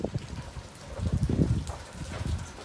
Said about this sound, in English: once I started taping, it started raining a little bit more here